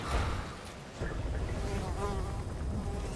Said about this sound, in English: Flies buzzing around your head is never a good sign.